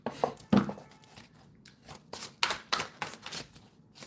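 A Mystical Wisdom tarot deck is shuffled by hand, with crisp papery riffles and card snaps arriving in uneven bursts, fairly close and alone.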